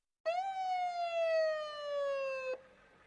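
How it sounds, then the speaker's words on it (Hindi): A single ambulance siren tone rises then slowly glides down in a long continuous wail, loud and close, cutting off abruptly after about two seconds. "एक शाम एक एम्बुलेंस तेजी से अंदर आई।"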